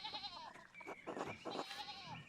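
A chicken in the medieval-setting video game Pentiment gives a sheep-like bleat, several wavering, nasal bleats in quick succession, fairly close and clear with no talking over them.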